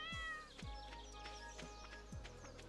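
Meows from a cat in the farming video game Stardew Valley, soft and faint, mixed with light game sounds and short low thumps that repeat every second or so.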